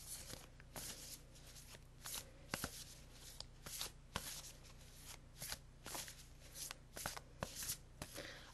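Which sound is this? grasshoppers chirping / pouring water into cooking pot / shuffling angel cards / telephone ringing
shuffling angel cards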